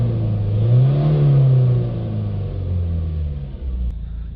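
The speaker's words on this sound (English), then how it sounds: "Back in the van, we're going to give it a few revs." Ford Transit Custom 2.0 van, with a low intake air flow and turbo boost fault, revving loudly up to a peak around the first second, then settling into a steady, rumbling idle nearby.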